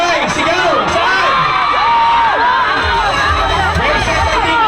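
A large live crowd at an outdoor store event shouts back together in a loud, continuous roar of overlapping voices, with cheers and whoops rising and falling throughout.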